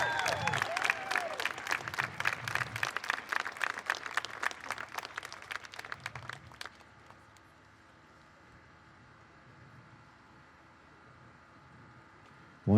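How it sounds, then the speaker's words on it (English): Steady applause from an audience honoring fire academy graduates, Battalion 151, continuing for several seconds before fading to a quiet, empty-sounding room. "Give them claps as they do it."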